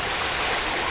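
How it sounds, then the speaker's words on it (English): Raw sewage from a combined sewer overflow gushes into the Allegheny River after rain, a loud, steady rush of churning water with no voices. "This is raw sewage from the alpha sand system flooding into the Allegheny River."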